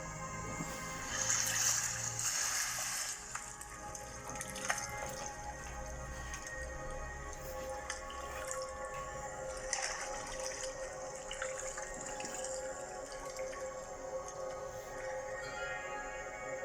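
Water splashing and running in the Jordan River during a baptism, a steady rushing wash with louder splashes near the start, close and continuous without talk.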